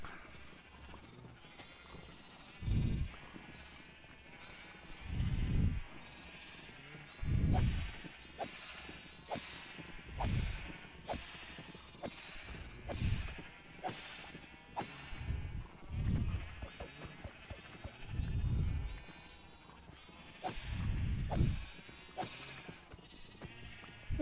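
Sheep in the Minecraft video game bleat about nine times at a steady rhythm, each call loud and close, with a soft background hum between them.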